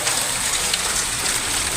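Hail pelts the roof of a car during a hailstorm in Punjab, a dense, steady rattling patter that fills the whole moment without break.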